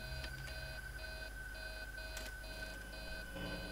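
Alarm beeping in the video game Five Nights at Freddy's 3, a steady electronic tone pulsing in regular on-off bursts over a low constant hum, fairly faint and heard alone without speech.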